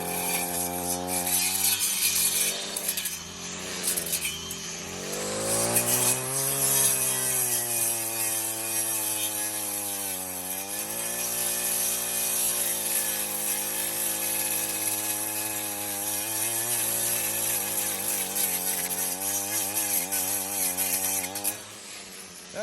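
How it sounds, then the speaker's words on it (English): A low-horsepower weed eater with a cutting blade chews through a fairly large tree, its engine whining loudly and continuously, bogging down and revving back up as the blade bites into the wood, with no one talking. "to be mowing off with this low horsepower weed eater"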